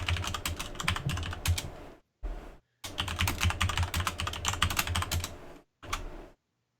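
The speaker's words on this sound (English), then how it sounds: "You sound like you're typing so hard right now" Someone types hard and fast on a computer keyboard during a PC gaming session, a close, loud, rapid clatter of keystrokes in bursts separated by short pauses.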